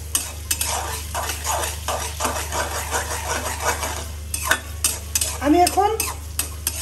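Onions being stirred and softened in a hot pan for a Bengali baila fish curry, with steady sizzling under repeated scraping strokes of a spatula against the pan, close and fairly loud.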